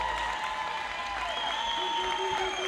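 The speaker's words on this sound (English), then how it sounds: "round of applause once again for the groom and his mother" A crowd applauds continuously, the clapping dense and even, with some voices and music faintly mixed underneath.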